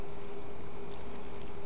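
Tea pours into a blender jug for a green smoothie, a steady close splashing stream filling the container throughout without a break.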